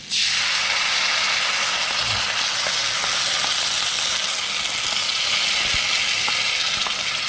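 Chili, soy and tomato sauces hit a hot pan of soybean chunks, a loud, steady sizzle of frying that runs throughout with occasional faint stirring clicks and no talk.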